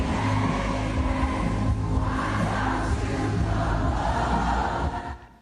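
A dense, sustained roar from a large crowd at a music festival performance, loud and continuous before fading out quickly at the end.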